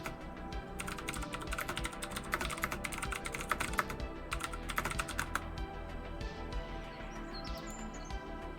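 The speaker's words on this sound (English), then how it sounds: "Do I hear mechanical keyboard?" Rapid clattering keystrokes on a Das Keyboard Professional mechanical keyboard, a dense run of typing with brief pauses, heard close and alone.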